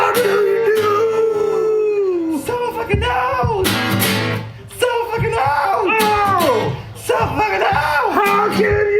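An old dog howls loudly and close by in long, wavering, repeated cries with brief pauses between them.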